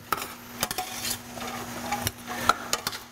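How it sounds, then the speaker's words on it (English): A pot of soup being stirred during a live cooking demo, with a few sharp utensil scrapes and clinks against the pot over a low steady hum, fairly close and no talking. "Give it a stir."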